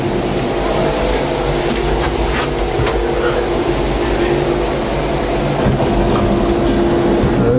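Steady mechanical rumble and rattling of a tram car moving along its track inside the Gateway Arch in St. Louis, continuous and close, with faint clicks and no talking.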